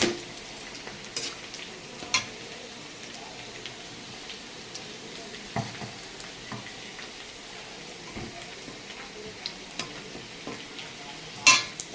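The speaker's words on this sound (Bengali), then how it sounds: "এরপরে আমি ফোড়নে দিয়ে দিচ্ছি এটা তেজপাতা, জিরা, দারচিনি, লবঙ্গ, এলাচ।" Bay leaf, cumin, cinnamon, clove, cardamom and a dried red chili sizzle gently in oil, a soft continuous crackle broken by occasional pan and utensil clicks, with no speech.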